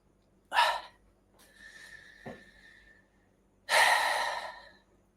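A deep, slow breath taken during a guided relaxation exercise: a strong close inhale, a quiet pause, then a long breathy exhale, with no talking.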